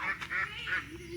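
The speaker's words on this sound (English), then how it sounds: "Why did one of my chickens just meow at me?" A chicken gives a short, close, nasal call of three quick rising notes, with the last one drawn out.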